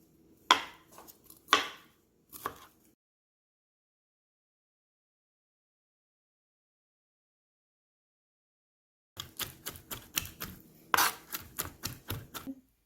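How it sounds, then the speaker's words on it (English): Knife chopping and mincing large shrimp on a board, a few sharp taps at the start, then after a long silence a denser run of quick rhythmic chops, close and fairly quiet. "Now you're going to get 6 large shrimp and mince them."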